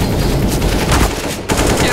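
Rapid automatic gunfire from a Counter-Strike: Global Offensive match fills the stretch in a loud, dense burst of shots, with a brief break near the end.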